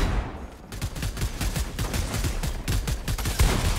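Rapid bursts of gunfire in a competitive Fortnite match, dense repeated shots crackling loud and close over about four seconds with no talking.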